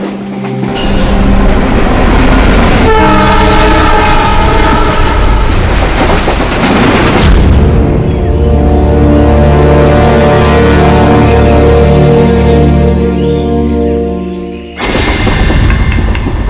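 Inside a moving train carriage, loud steady rumble and clatter of wheels on rails fills the scene throughout, with shifting metallic tones and a brief dip before the noise resumes.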